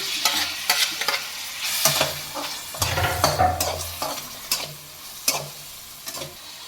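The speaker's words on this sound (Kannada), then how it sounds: "ಈರುಳ್ಳಿ ಈಗ ಫ್ರೈ ಆಗಿದೆ ಈಗ ಟೊಮೆಟೊ ಹಾಕ್ತಾ ಇದ್ದೀನಿ" Tomatoes frying with onions in a pan for a lady finger curry, loud close sizzling with repeated scraping stirs and clatters of the spoon, no talking.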